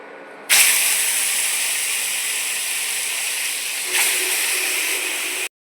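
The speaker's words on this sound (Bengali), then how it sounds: "মাছ দুটো ভেজে নেওয়া হচ্ছে।" Two bata fish, rubbed with salt and turmeric, frying in hot oil, giving a loud, steady broadband sizzle that starts abruptly, swells briefly near the end and then cuts off.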